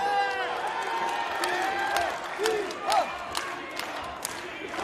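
Wrestling crowd at a Warrior Wrestling event, a dense wash of voices rising into a loud chant for one more chop, with shouts and scattered whoops swelling over the arena din.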